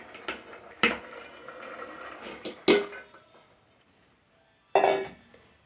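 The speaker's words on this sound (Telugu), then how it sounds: "ఈ కార్న్ అన్ని పోసేసుకోవాలి." Sweet corn kernels go into a pressure cooker with a few sharp metallic clinks and rattles spaced apart, close and fairly loud against a quiet kitchen.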